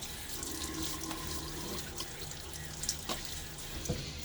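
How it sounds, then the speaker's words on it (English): Water runs steadily from a tap, hissing and splashing with a few sharper drips and splats breaking through the flow; cool hard water splashed onto a face. "I'm going to splash my face with a little bit of water."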